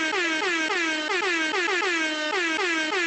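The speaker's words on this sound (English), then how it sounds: "let's get an air horn going." Loud, repeated blasts of an air horn, several long honks in quick succession with brief breaks between them, filling the whole clip.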